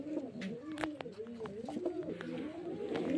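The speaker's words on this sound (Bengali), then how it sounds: "এই যে সব মুর্শিদাবাদের গিরিবাজ লাইনের পায়রা।" A loft of Murshidabad Giribaz line pigeons keeps up dense, overlapping cooing, with many birds burbling at once in a continuous rising-and-falling chorus, close and lively, with faint clicks and flutters mixed in.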